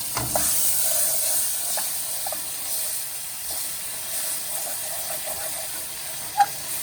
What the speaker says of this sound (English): you're gonna add in some onion to stop that roux from cooking anymore